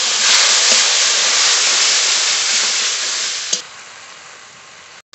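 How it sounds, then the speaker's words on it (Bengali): Spice paste of chili powder, salt, turmeric and green chili frying in a pan with a splash of water, a steady loud sizzle and hiss that fades slightly near the end, with a brief stir clink. "একটু জল দিয়ে মশলাটা ভালো করে কষিয়ে নেব"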